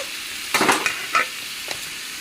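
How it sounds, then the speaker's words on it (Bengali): Drumsticks and tomatoes frying with salt and turmeric are stirred in a pan, giving two or three short scraping sizzles over a quiet background, close and with no voices. "লবণ হলুদ গুঁড়ো আর কিছু দেব না এতটুকুই মশলা এখন নেড়ে নিই"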